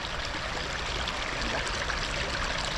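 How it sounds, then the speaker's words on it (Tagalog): River water flows steadily nearby, a constant broadband rush and trickle with no voices, even in loudness from start to finish. "Ganda ng ilog dito, oh."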